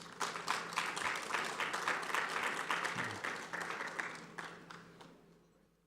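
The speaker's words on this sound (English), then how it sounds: "One more time, ladies and gentlemen, a round of applause." Sustained applause from a large audience at an African business summit, steady and dense for several seconds before gradually fading out.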